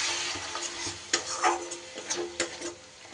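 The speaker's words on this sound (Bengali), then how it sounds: "সব কিছু মশলা খুব ভালোভাবে আমি কষিয়ে নেব।" Spices stir-fried with a little water in a pan for a Bengali potol curry, soft sizzling under irregular scraping and tapping of a spatula, quiet and close, with no talk.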